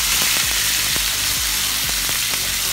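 Tomato, sweet pepper, onion and dried thyme fry in a pan for Jamaican ackee and saltfish, giving a loud, steady, close sizzle with occasional soft stirring clicks underneath.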